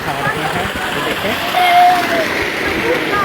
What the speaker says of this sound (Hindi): बच्चे यहाँ नहा रहे हैं